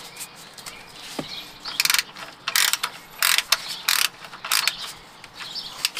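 A hand ratchet with a 15mm socket clicks in several short, sharp bursts while loosening the oil drain plug under a Chevy Tahoe, heard close up against quiet surroundings.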